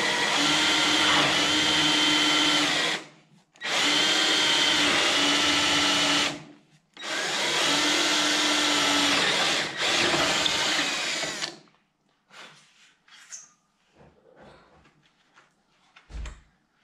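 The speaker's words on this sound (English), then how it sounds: "used the 2 holes as a template to drill through the base" A power drill boring holes through the wooden base of a ball and bat storage unit: three long, loud, whining runs separated by short pauses, then scattered clicks and handling knocks.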